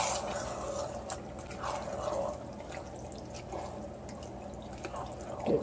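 Liquid drips from the rim of an Instant Pot in a home kitchen while jambalaya cooks, a few faint, irregular drips over a quiet, steady background hum with no talking.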